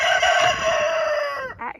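In a backyard coop, a hen sounds off while trying to lay among bantams, silkies and mixed chickens, a loud drawn-out tonal call that fades, then a short clucking burst, close by.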